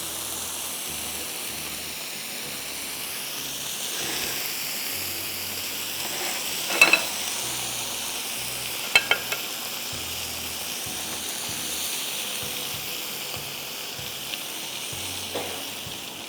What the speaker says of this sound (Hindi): हमारी चिकन यहाँ पे दोनों साइड पे बहुत अच्छी तरह से अल्हम्दुलिल्लाह ग्रिल हो चुकी है।